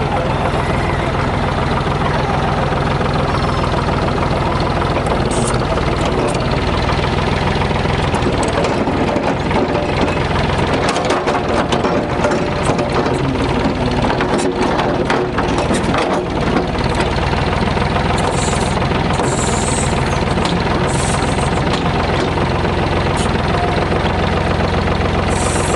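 A heavy backhoe diesel engine runs continuously with a steady, loud rumble and rattling clatter, close by and unbroken for the whole stretch, on a farm.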